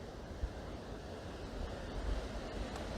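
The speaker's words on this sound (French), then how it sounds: "peut-être vous entendez le vent" Wind blowing outdoors, a steady broad rushing roar with low buffeting gusts against the microphone, continuous and fairly loud for a few seconds, with nobody talking.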